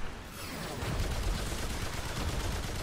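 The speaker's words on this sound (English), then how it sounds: "I got him with the LMG." Rapid automatic fire from an LMG in the Remnant 2 video game, a dense sustained rattle of shots running steadily throughout at fairly low level, with no talking.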